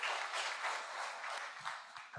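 An audience at an academic meeting claps in a sustained burst of applause, dense and even, thinning out at the end.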